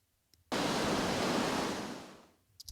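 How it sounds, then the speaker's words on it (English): An ocean surf sound effect that starts abruptly at full level as a dense wash of noise and then fades smoothly away over about two seconds, alone with no talk. "By the time that ocean sound fades out, our music will pick up."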